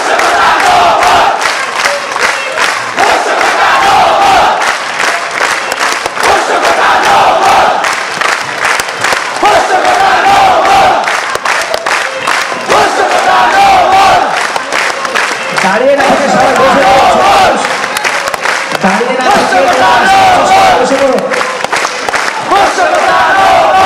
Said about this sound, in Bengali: আমরা আরেকটু স্লোগান শুনতে চাই।